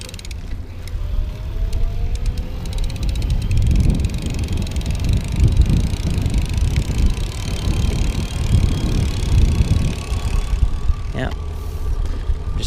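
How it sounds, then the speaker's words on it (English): A BESV PSA1 electric bike pedaled slowly with motor assist, giving a continuous close whir and mechanical hum with light ratcheting, while a rider talks over it. "I'm going to just pedal super slow and try to demonstrate the cadence sensor feel of this"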